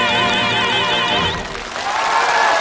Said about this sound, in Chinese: 让我们把最热烈的掌声送给王丽、杨洋两位青年歌唱家